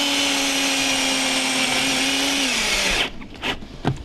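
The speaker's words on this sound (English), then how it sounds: "what we use is a Tech screw and a drill" A power drill drives a Tech screw into a car's metal body chassis, a loud steady whine whose pitch drops as the screw seats, then stops, leaving a few faint clicks and handling noises.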